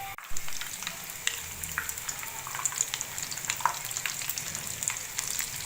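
Vegetable kababs frying in a little oil in a pan, a steady close sizzle with scattered crackles and pops throughout, no voices.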